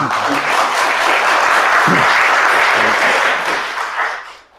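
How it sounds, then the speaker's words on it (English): An audience claps steadily at a startup fireside-chat event in Liverpool, a dense, loud wash of applause that holds for about four seconds, then fades out. "Can we get a round of applause, please?"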